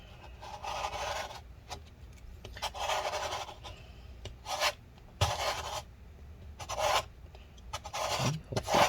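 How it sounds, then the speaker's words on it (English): A tool scrapes adhesive residue off the battery area inside a 13-inch Early 2015 MacBook Pro A1502, producing repeated short rasping strokes in an irregular rhythm, close and fairly quiet. "hopefully you guys can see that the residue is getting scraped away."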